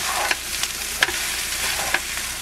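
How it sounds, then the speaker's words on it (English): Egg fried rice frying in a pan aboard a boat, with a spatula working underneath and turning it: a soft continuous sizzle with a few sharp scrapes and taps at intervals. "then we get a spatula underneath and start turning it. Scraping it off a bit."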